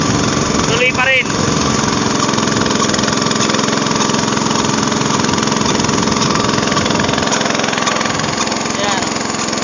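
A motorcycle engine runs steadily while riding through deep floodwater, a continuous mid-pitched drone with no letup; a voice cuts in briefly near the start.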